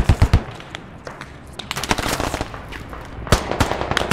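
Machine gun bursts in the military shooter Squad, rapid loud cracks in several clusters with gaps between, some shots close and punchy, others more distant.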